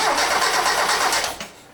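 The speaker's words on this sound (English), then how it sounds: "if we crank the engine over" A Mazda Miata NA engine cranks over without catching, a steady churning starter whir that holds for over a second, then cuts off and fades out, close and fairly loud.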